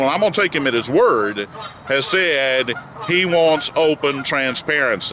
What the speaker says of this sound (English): Now, if you hear some geese in the background,